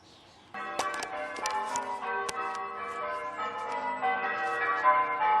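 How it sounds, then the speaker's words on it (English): Loud church bells ring out in a rich overlapping peal that starts abruptly and keeps building, with sharp clanging strikes and sustained ringing tones filling the air. "these church bells are just so loud"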